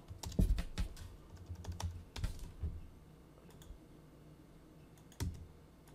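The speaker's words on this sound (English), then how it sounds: "as soon as I type in a letter, it starts searching automatically" Quick key clicks on a computer keyboard while typing into an inventory database search, with dense bursts in the first half, sparser taps later and one more near the end, close and alone.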